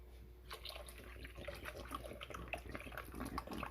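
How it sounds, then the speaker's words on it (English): Water from a bottle pours into a pot for chicken broth, a steady gurgling splash with bubbly trickles running for several seconds at moderate volume. "I'm probably gonna add another bottle of water just so I can have extra broth."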